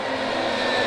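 A C-5M Super Galaxy military transport jet roars steadily while accelerating down the runway on its takeoff run, a loud continuous engine rush with a whining tone.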